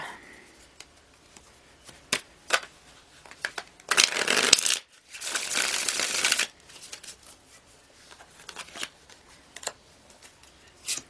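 Tarot cards riffled and shuffled in two loud bursts, each lasting a couple of seconds, with soft scattered ticks and taps of handling before and after.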